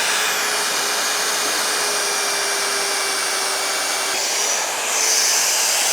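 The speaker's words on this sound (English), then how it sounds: "this is our mag drill" Magnetic drill boring holes with a slugger bit, a loud, steady high-pitched whine with a continuous grinding hiss throughout, briefly changing pitch near the end as the cut shifts.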